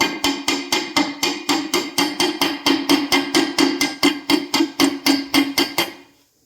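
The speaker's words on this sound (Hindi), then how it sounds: "इसे ठोक लेते हैं।" A balancer bearing being hammered into a TVS Apache RTR 200 motorcycle gearbox, about twenty-five evenly spaced metallic blows in a steady fast rhythm, loud and close, ending abruptly.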